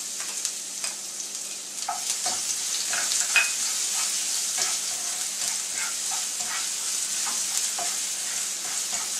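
Cumin seeds and coarsely crushed ginger and garlic sizzle and crackle steadily in hot oil in a pan, a continuous close frying hiss with scattered sharp pops, for capsicum sabji.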